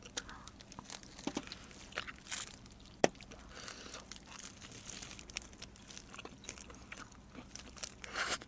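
Pepperoni pizza being eaten close to the mic, with soft crunchy bites and chewing scattered across the clip and one sharper crunch, over a faint steady background hum.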